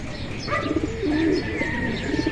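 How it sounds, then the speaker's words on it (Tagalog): Racing pigeons coming in during club training near Nueva Ecija, with soft nearby coos and chirps over quiet outdoor ambience and a few faint distant calls. "ang dami nang dumadaan mga kalapatids"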